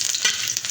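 Ginger sizzles hard as it hits a hot pan, a brief bright crackle heard up close with no talk.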